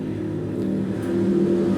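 Honda Beat scooter engine revving steadily on a late-night ride, a continuous mid-pitched drone that swells slightly louder toward the end, with no talk over it.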